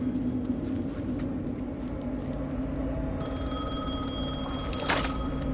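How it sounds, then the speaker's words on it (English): A telephone rings in the video game Alan Wake 2, a steady electronic ring tone entering midway over a dense, constant ambient rumble and hiss, with a brief sharp transient near the end. "The phone again."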